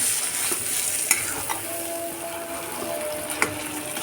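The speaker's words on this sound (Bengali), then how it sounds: "কচু শাকটা দিয়ে আমরা একদম ভাজা ভাজা করে ফেলবো, নাড়তে নাড়তে একদম শুকনো শুকনো ভাজা ভাজা হয়ে এটা কালার চেঞ্জ হয়ে আসবে" Chopped taro leaves stir-fried dry in a hot pan produce a continuous close sizzle, with occasional sharp taps and scrapes of the spatula against the pan.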